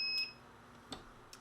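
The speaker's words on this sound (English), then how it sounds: "It's beeping." Short electronic beeps from a heat press timer set for fifteen-second presses, heard as two or three faint, brief high tones over a quiet room.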